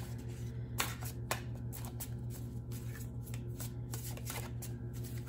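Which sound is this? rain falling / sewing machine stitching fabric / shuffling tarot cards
shuffling tarot cards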